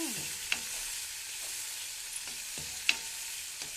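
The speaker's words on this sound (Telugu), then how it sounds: "ఇప్పుడు టమాటా ముక్కల్ని వేయించుకోవాలి పచ్చివాసన పోయేదాకా" Soft, steady sizzling of tomato pieces frying in a pan, with a few sharp clicks from a utensil scraping and stirring.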